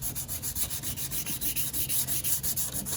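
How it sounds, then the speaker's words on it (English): Dry sanding of old adhesive on a car hood: quick, even back-and-forth rubbing strokes with a rasping, hissing texture, close and moderately quiet, without any talk. "I dry sand it first"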